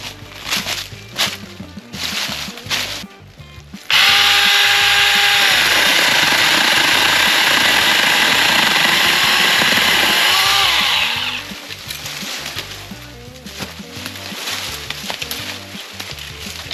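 A small mini chainsaw starts with a sudden roar and saws steadily through a little tree in the woods for several seconds, loud and close, then winds down, surrounded by crunching footsteps and handling noise.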